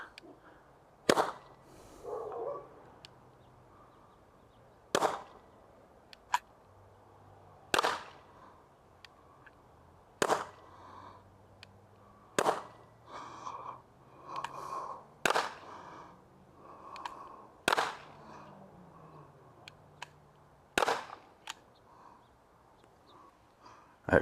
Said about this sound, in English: There was one more in there, so that would be 5 shots